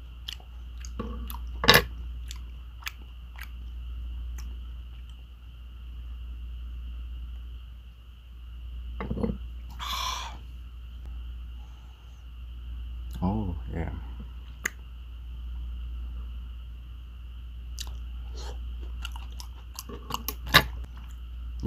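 Close, quiet chewing of raw sliced catfish, with scattered wet clicks and smacks over a steady low hum, broken by brief bursts of sound; a person speaks at times.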